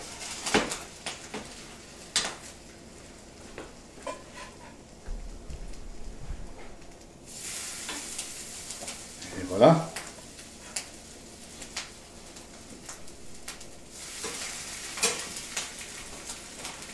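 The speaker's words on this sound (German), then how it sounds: "Und jetzt ab damit in die Pfanne." Potato rösti hisses and sizzles in a hot pan in a few loud bursts, with scattered clinks of utensils and quiet gaps in between.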